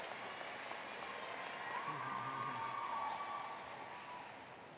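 Audience applause at a commencement ceremony, a steady wash of clapping from a large crowd that holds evenly throughout and fades slightly at the end.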